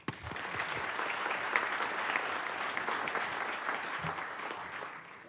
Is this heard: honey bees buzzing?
no